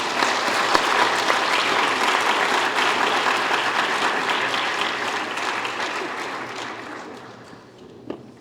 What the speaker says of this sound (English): Let's have one more final round of applause for these officers.